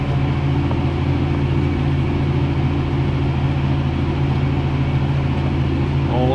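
A New Holland TM190 tractor pulling a subsoiler and disc cultivator in 12th gear drones as a loud, steady low engine rumble with a constant hum, close and continuous, with no talking.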